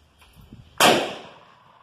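A single sharp .30-06 rifle shot cracks loudly after a quiet moment, its report echoing and fading over the following second.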